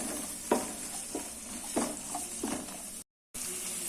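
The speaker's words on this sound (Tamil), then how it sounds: "இப்போ இது நல்லா சேர்த்து வதக்கிக்கலாம்" Onions with green and red chillies sautéing in a pan for village-style tomato rice, a steady close sizzle broken by several stirring scrapes, with a brief silent gap near the end.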